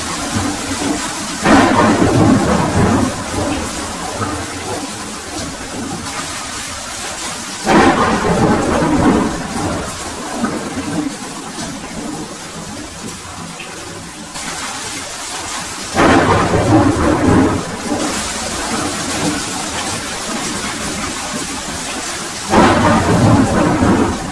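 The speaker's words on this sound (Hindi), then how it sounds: "फिर अचानक तेज बारिश शुरू हो जाती है।" Heavy rain pours steadily while loud rolls of thunder boom in roughly every seven seconds, each swelling and fading back into the downpour.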